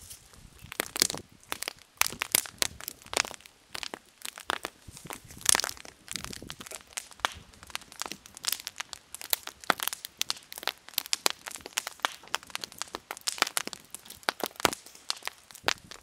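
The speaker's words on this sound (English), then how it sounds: "So these fronds are actually burning fairly well." Dry cattail fronds burn in a fire with dense, irregular crackles and sharp pops, close and fairly loud, continuing steadily throughout with no talk.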